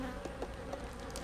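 Honey bees buzz around an open hive in an apiary, a close, steady insect drone with individual bees flying past, and no voices.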